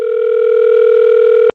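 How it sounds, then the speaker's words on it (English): A telephone dial tone sounds as a phone call begins: one loud, steady, unbroken tone that cuts off abruptly after about a second and a half. "I'm gonna start making this phone call."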